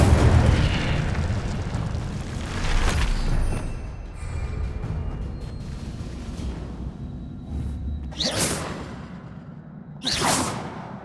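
Incendio fire spells cast in Hogwarts Legacy burst out as loud whooshing blasts with a fiery roar. Several swooshes come in sequence, the last two crisp and separated by short quieter gaps.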